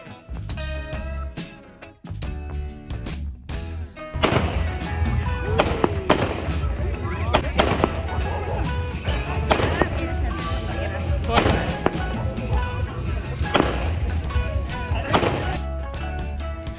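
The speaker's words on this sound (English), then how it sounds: "everyone was still celebrating with firecrackers" Continuous crackling bursts of fireworks and firecrackers popping and booming at Palolem Beach in Goa, dense and loud throughout, with faint voices in the background.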